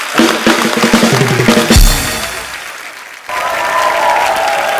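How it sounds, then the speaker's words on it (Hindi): An audience claps steadily, a dense wash of applause that swells, briefly drops, then continues with a voice over it. "जोरदार तालियां"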